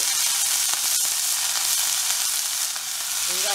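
Onions and vegetables for a broad bean (avarakkai) poriyal fry in a pan, giving a steady, loud sizzle throughout with faint stirring scrapes and no talk.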